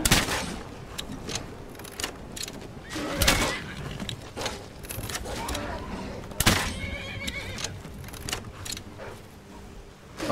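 In the Skyrim video game, a horse under wolf attack whinnies repeatedly in sharp, loud bursts amid scuffling, hoof clatter and combat clangs, with game effects layered around the cries.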